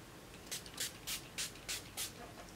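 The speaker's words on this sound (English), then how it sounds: "Let me just spray a little bit on my face right now." Setting spray misted onto a face: six short, soft hissing bursts in an even rhythm, close and fairly quiet in a calm room.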